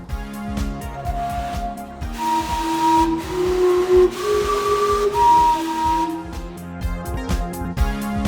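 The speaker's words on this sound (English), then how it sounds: "This clock is partially powered by a steam engine" Vancouver's steam-powered Gastown clock sounds its whistle, a sequence of sustained, slightly wavering tones over hissing steam and street noise, loud and close.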